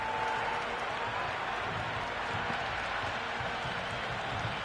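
Cricket video game crowd, a steady wash of applause and cheering from a stadium audience, continuous and fairly loud, with no talk over it.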